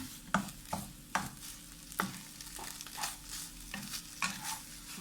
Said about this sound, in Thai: เราก็เลยเอามา ผัด เอามาผัดให้หอม ๆกลิ่นหอมมากเลยนะคะ